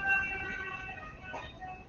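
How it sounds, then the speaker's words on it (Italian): An ambulance siren passes outside, heard faintly through a room as a wavering wail in the distance with no talk over it. "passano le ambulanze dinanzi non so che stanno a fare"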